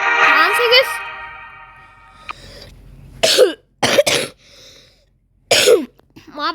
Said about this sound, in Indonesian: Maaf akhir-akhir ini aku lagi batuk